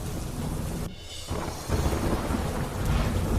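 Heavy monsoon downpour with thunder over a town, a dense roar of rain broken by a brief lull near the first second before rumbling thunder swells back in loud and close, no voices.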